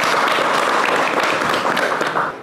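Applause from the audience at a Korean transport forum and committee launch event, steady dense clapping that fills the whole stretch at close range, with no voices over it.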